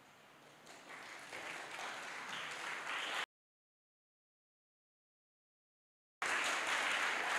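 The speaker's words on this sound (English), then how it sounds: "please rise and give a warm round of applause to your parents" Graduating students applaud their parents at a Year 11 school graduation ceremony, a steady broad clapping that swells after a start and holds, cut by a gap of silence, then resumes at full strength.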